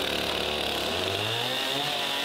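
A chainsaw cuts through wood during a timed saw comparison, its engine a loud, continuous high whine at full throttle, the pitch sagging and wavering slightly as the chain bites into the log.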